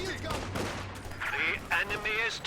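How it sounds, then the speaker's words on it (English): Machine gun fire in Company of Heroes 2, a real-time strategy battle, comes as bursts of rapid shots under other battle noise and a commentator's voice. "What a promiscuous machine gun."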